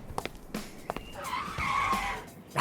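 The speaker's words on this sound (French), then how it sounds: "Votre voiture personnelle est arrivée." A car pulls up with a faint tire skid rising midway, quiet and somewhat distant, with light thumps at the start and a brief sharper sound at the end.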